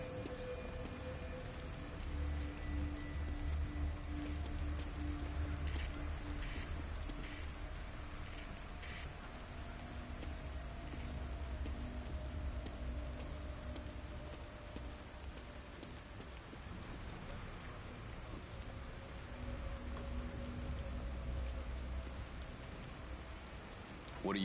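Continuous heavy rain pours down in the video game The Evil Within, a dense unbroken hiss of drops on surfaces that stays steady and fairly loud throughout, with no voices.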